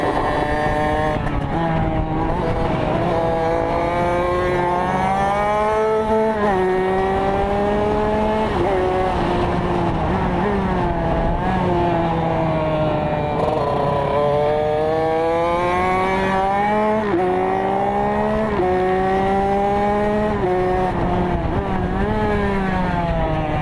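A Kawasaki KX65 motorcycle's small two-stroke engine screams through a lap of a kart track, its pitch rising and falling steadily through repeated gear changes and corners, loud and continuous with no talking.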